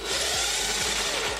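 A power drill bores a hole in a car's body panel to mount an LED load resistor, giving a loud, close, steady high whine with a few small dips in pitch as the bit bites, with no speech.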